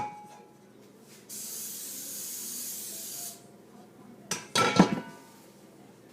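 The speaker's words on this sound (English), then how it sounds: "you're going to gently spray it with this oil" An oil spray can hissing a steady two-second burst of oil onto cake pans nearby, followed by the clink and knock of the metal pans being handled.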